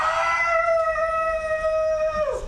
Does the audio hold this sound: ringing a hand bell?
no